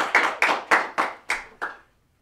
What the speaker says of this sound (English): everybody would just clap like a whole bunch right there